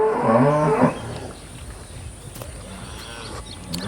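A single low, drawn-out moo from a large dairy cow near the start, lasting under a second, followed by quiet outdoor ambience on a cattle farm.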